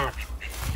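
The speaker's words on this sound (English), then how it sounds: "And call ducks are doing great." A few short nasal quacks from call ducks, close and fairly loud, packed into under a second.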